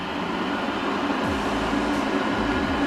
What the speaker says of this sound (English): So I'm gonna test out the robot vacuum to see how it works.